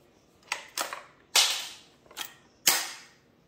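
A Mossberg .22 LR rifle chambers a round-nose cartridge, giving five sharp metallic clicks and clacks in an uneven sequence, close and crisp, with no talk.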